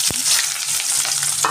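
Onions fry in hot oil with cumin seeds and curry leaves, a loud, dense, steady sizzle heard up close, with a single sharp pop near the start.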